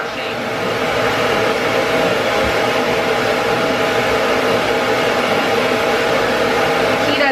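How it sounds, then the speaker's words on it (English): A hair dryer blows steadily and loudly on a Shih Tzu while she is brushed, its constant whooshing roar filling the clip from start to finish. "dryer is hitting, that's the area that I'm brushing"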